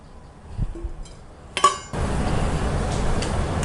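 Metal idli plates clink against each other as sesame oil is spread over them in a home kitchen, with a few light taps early on and a sharper clatter before a steady background hum.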